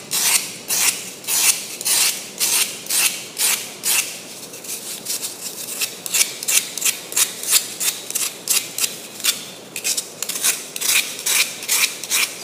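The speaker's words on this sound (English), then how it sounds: "you can use a knife blade almost like it was a scraper" A knife blade scrapes and carves urethane foam in steady, rhythmic rasping strokes, about two per second, loud and close with no talking.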